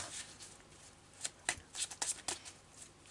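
Tarot de Marseille cards are shuffled by hand in a quiet room, giving a few soft, brief riffling and slapping bursts close by.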